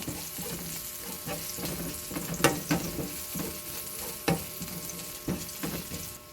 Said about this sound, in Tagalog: magigisa na ng bawang